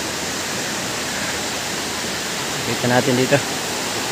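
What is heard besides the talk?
Abungan Falls waterfall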